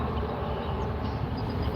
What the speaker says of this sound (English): Why I hear a train? Oh, it is a train.